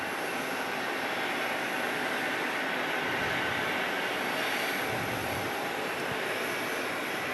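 An American Airlines Airbus A321neo jet at Phoenix Sky Harbor International Airport gives off a steady, broad engine roar with a faint high whine, holding even and moderately loud throughout without voices.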